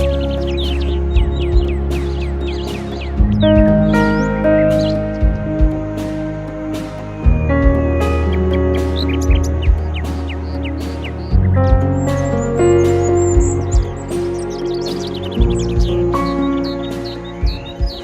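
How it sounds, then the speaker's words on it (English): Birds chirping and calling in an autumn forest in Washington, many short tweets and repeating calls over a steady low background, moderately close and continuous. "The babbles of birds and rustle of fallen leaves underfoot greet my ear"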